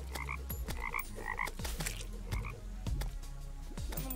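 Toads croaking in the Terraria Calamity mod, a rapid run of repeated croaks at a steady pace over busy game music and effects.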